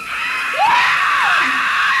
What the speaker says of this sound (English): the same famous psycho-violent screech sound